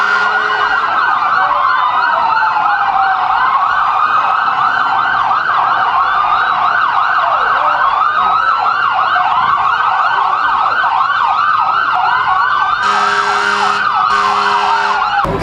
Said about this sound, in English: As you can hear our fire trucks coming through.